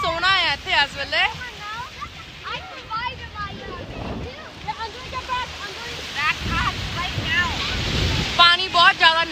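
Waves roll and wash onto a beach in Mexico at night, a soft, steady surf with wind buffeting the microphone, while birds or voices chirp and people chatter nearby over the water.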